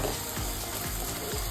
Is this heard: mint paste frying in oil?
yes